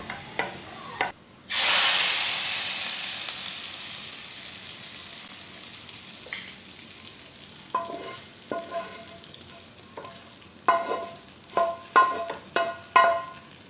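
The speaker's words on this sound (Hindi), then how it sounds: "प्याज को ब्राउन कर लेंगे" Onions fry in a pan while being browned for a restaurant-style chana dal: a loud burst of sizzle as something hits the hot oil, then a steady, fading hiss broken by rhythmic scraping and stirring clatters.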